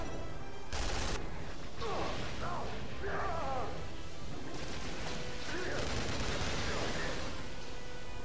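Gunfire in the Duke Nukem Forever demo, a crackle of shots mixed with game effects under someone talking over the action.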